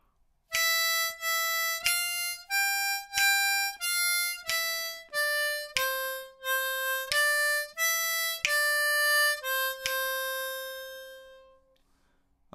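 A harmonica plays the second line of Beethoven's Ode to Joy as a slow run of separate, clean reedy notes, about a dozen in steady rhythm, close and alone, with the last note held and fading.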